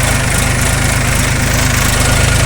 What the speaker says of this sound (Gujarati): પાંચ વાગ્યા ટ્રેક્ટર ચાલુ થઈ ગયું